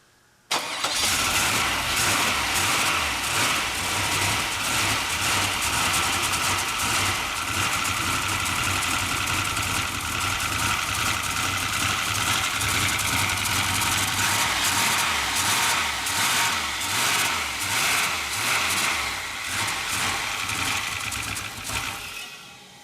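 A turbocharged LS engine in an AMG wagon cranks and fires with a sharp start, then runs rough and loud without settling into a steady idle, close by and continuous for about twenty seconds with no talk.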